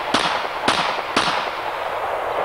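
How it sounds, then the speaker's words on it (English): Three sharp shots from a 6.5 Grendel rifle outdoors, evenly spaced about half a second apart, each a loud crack with a short ringing decay, no talking. "let's shoot the Grendel"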